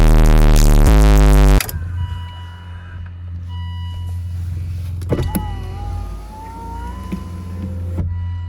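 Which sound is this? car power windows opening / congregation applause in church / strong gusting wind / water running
car power windows opening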